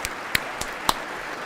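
A few isolated hand claps during a live stream about a speakership vote, four separate sharp claps spaced irregularly over a quiet background, close and fairly crisp.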